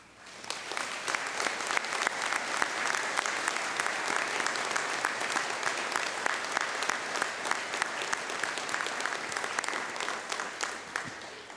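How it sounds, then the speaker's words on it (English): A college convocation crowd at NSCC Lunenburg Campus claps for faculty and staff, a steady, full round of applause with sharp individual claps that holds for over ten seconds without talk. "think of them now as we give a round of applause to the faculty and staff who call Lunenburg Campus home"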